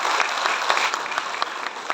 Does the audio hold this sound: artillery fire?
no